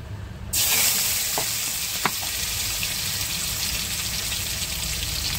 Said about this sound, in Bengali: এই তেল গরম হয়ে গেছে, চিংড়ি মাছটা আমি এখন ভেজে নেব।